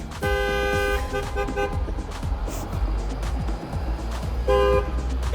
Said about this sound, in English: In Israel, you can do a song of people honking in the street.